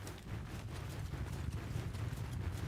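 Cavalry horses galloping in Mount & Blade II: Bannerlord, a soft continuous patter of many hooves, fairly distant and faint, with no talk.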